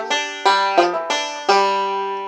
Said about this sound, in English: We're going to do a 3-2 pull off on the 4th string to end it.